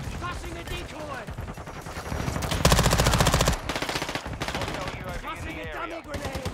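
BAS-P submachine gun fire in Call of Duty Modern Warfare 2 at the Shoot House map, several loud rapid automatic bursts, the longest in the middle, with someone talking in between.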